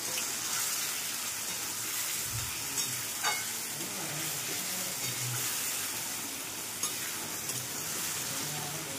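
Food, with skins left on, fries in a pan as part of a pumpkin vegetable dish, giving a steady sizzle with occasional faint clinks and stirring sounds, close and continuous, no voices.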